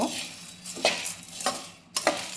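Roasted gram being stirred and gently warmed in a pan on low heat, with a few distinct scraping strokes of a spoon against the metal over a soft background hiss.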